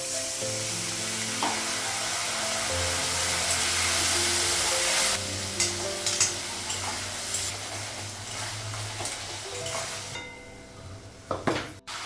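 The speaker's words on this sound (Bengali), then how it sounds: "কাঁঠালটা লাগালাম, একটু কষে নিব" Jackfruit sautéed with ground garlic, cumin, coriander, salt and chilli powder in a pan, giving a loud hissing sizzle at first that settles into softer frying with occasional stirring scrapes and clanks near the end.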